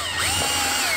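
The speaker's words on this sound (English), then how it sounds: "I'm gonna drill a pilot hole in the center." A power drill bores a pilot hole in the center of a piece for a DIY gantry lift built to remove an Airstream trailer shell. Its high whine runs loud and steady, close up, with no talking.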